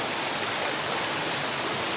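A big waterfall on a river in the New Zealand mountains roars as a dense, steady rushing wash of water, loud and unbroken, with no voices.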